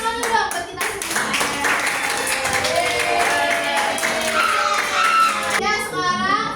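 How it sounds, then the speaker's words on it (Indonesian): Eighth-grade students in an Islamic studies class at a Muhammadiyah junior high clap together in a lively burst, children's voices chattering over the steady patter of hands. "ini tepuk tangan dulu dong buat kita semua."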